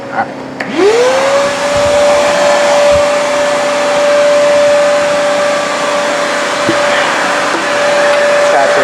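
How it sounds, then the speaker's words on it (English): A vacuum cleaner switches on and rises to a steady, loud motor whine that drones on without a break, with a faint rushing airflow under it, while vacuuming a car interior. "So you can just vacuum along and it'll do a good job."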